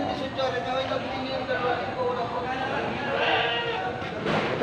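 Native goats bleat repeatedly at a goat farm during a goat sale, loud and close over steady crowd noise, with people talking throughout.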